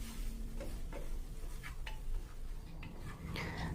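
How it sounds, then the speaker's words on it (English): Rice is stirred in a pan over a medium flame, with a soft steady sizzle underneath and scattered light scraping and clinking from the spoon against the pan, close and quiet, no voices. "Now let's stir this for a while and cook in this way for a while in medium flame."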